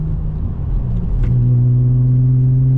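A Nissan 350Z/G35 with a rear subframe collar drones steadily up close, its low engine rumble holding a constant pitch. A brief dip around the shift from fourth into fifth gear is followed by a smooth, rising tone.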